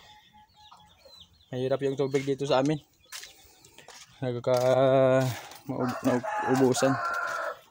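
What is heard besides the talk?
free-range hens clucking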